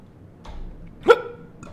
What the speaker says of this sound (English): These hiccups.